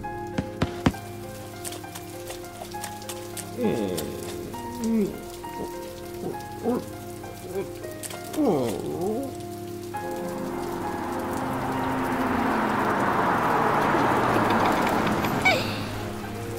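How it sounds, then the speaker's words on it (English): Rain in Roblox Brookhaven patters lightly at first beneath soft musical tones, then swells into a steady, hissing downpour for the second half. "It's raining!"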